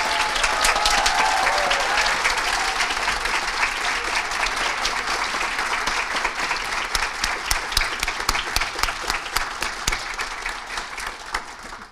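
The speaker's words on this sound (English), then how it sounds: "we might just give a final round of applause to all our graduates and wish them well in the future" Sustained applause from a graduation ceremony audience at Griffith College Limerick, a dense, steady wash of clapping that starts loud and gradually thins toward the end, with individual claps becoming more distinct.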